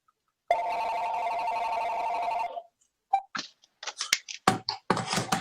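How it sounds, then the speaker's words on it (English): Telephone ringing in a home during a remote city council meeting, one steady electronic ring lasting about two seconds, followed by scattered faint clicks and handling noises. "gonna have to move my phone to the other room if it keeps ringing"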